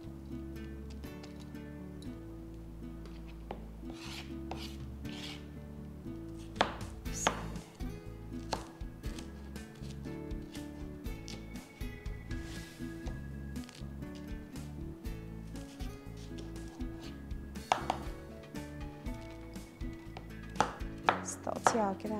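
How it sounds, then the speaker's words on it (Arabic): Steady, rapid knife chopping of onion on a cutting board, a dense run of crisp taps and thuds continuing throughout at moderate volume. "تقطيع كده عشوائية"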